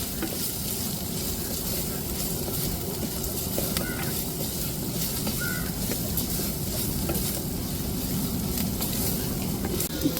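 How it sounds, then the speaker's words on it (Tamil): Garlic sautéing in hot oil in a pan, a continuous dense sizzle with occasional stirring scrapes, steady and close throughout. "பூண்டு பச்சை வாடை மரத்தட்டிக்கும் நம்ம நல்லா வதக்கி விட்டுக்குருவோங்க"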